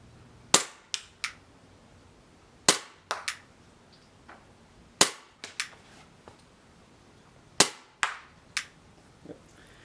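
A Novritsch SSP-18 airsoft pistol fires on green gas, four sharp close shots spaced about two seconds apart, each crack followed by a quick echoing rattle.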